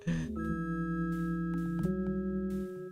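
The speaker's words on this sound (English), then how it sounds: "Ringing the devil's doorbell." An electronic doorbell chime from the adventure game Sam and Max Hit the Road rings out in sustained, layered tones, with a second note joining partway through, clear and alone with no talk.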